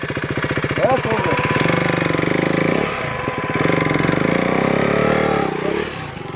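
A Bajaj Dominar 400 motorcycle on the Hunder sand dunes in Nubra Valley, Ladakh, a loud, close, steady thumping engine note that dips briefly mid-way, with people talking over it.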